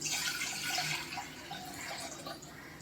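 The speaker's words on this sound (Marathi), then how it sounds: "त्यात मी एक तांब्या भरून पाणी टाकणार आहे." Water is poured from a full tumbler into a heavy-bottomed brass pot on the stove: a steady, splashing pour lasting about three seconds, fairly soft and close, with no voices.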